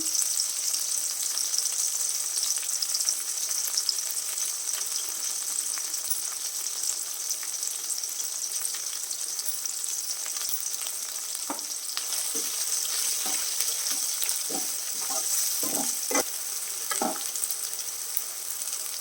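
Tomato pieces and masala frying in oil in a pan for a mango and taro root curry, a steady close sizzle with occasional stirring scrapes and spatters toward the end, no voices.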